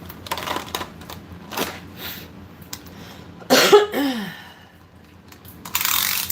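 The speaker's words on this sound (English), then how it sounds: "I still have a little bit of a cough here" Adult with a lingering cough during a live vintage-goods sale, with a short burst of coughing in the middle, loud against a quiet room with faint handling noises and clicks around it.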